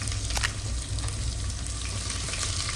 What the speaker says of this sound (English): once the ghee is hot, I'm adding in the onions.